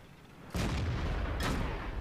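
Tank cannon fire in World of Tanks as a shot bounces off armor, two heavy booming impacts about a second apart, loud and close.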